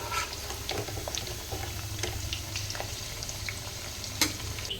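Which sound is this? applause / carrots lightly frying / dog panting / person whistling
carrots lightly frying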